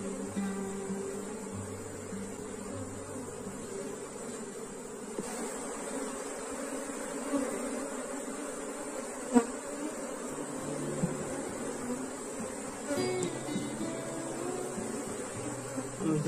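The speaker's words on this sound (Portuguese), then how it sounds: "Até que tem um volume bom de abelhas" Honey bees drone steadily inside an open hive box during an apiary inspection, a dense, continuous buzz heard up close, with brief knocks and faint background sounds.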